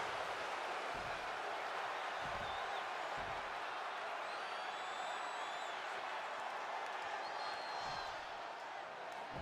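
Arena crowd in the WWE 2K25 wrestling video game, a broad continuous roar of cheering and noise with occasional whoops, steady and loud throughout.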